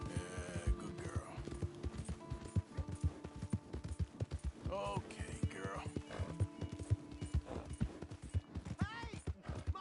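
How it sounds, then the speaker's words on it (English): Steady clip-clop of horse hooves with a short whinny in Red Dead Redemption 2, under a calm spoken voice and scattered ambient effects. "Hey! My horse!"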